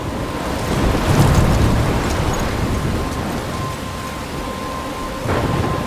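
In the game Life is Strange, a thunderstorm roars with steady heavy rain and wind, and rolling thunder swells early on and again near the end.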